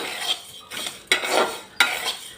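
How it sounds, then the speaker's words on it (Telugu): Coriander seeds and fenugreek are dry-roasted in a pan on low heat while a spoon stirs them, making three or four close, sharp metallic scrapes and rattling strokes, with no voices. "వీటిని చక్కగా స్టవ్ సిమ్లో పెట్టుకుని కలుపుతా వేయించుకోవాలి ధనియాలు వేగేటప్పుడే ఇందులో కొంచెం మెంతులేస్తున్నాను"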